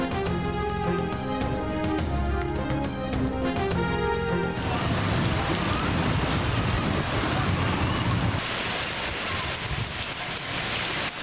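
Heavy rain pouring steadily in Karachi during a downpour, a loud, dense and continuous wash that sets in after a short stretch of music.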